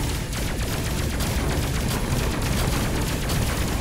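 Dense, rapid bursts of railgun fire keep going without pause in the space combat game Space Crew, loud and close, with booming impacts and no speech.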